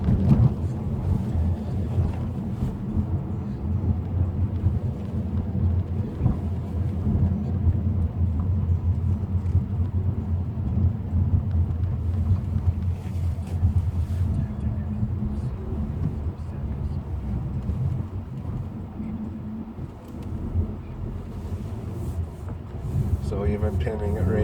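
A Honda Civic EX-T with a six-speed manual and winter tires drives through winter conditions, its engine and road noise a steady low rumble from inside the cabin, with a faint shift mid-drive.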